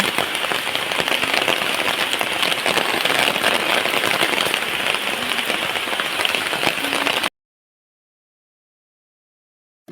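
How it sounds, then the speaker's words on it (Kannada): Raindrops patter steadily into water on a rainy day, a dense, even hiss that runs for about seven seconds and then cuts abruptly to silence. "ಹನಿ ಹನಿ ಬೀಳ್ತದೆ ನೋಡಿ"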